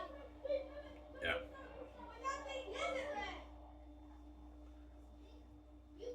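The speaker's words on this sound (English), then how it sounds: "Excuse the noise. The kids are coming in my room" Children chatter and play in a room, their high voices coming in short bursts over a low steady hum, fading into quiet toward the end.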